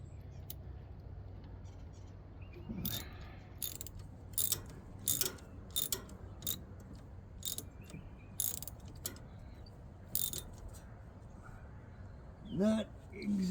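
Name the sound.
ratchet clicking while replacing sickle knives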